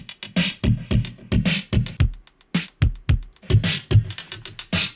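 Rhythmic punchy sound driven through the amp device in Bitwig Studio, a series of thumping, distorted hits in a steady pattern, close and loud with no talking.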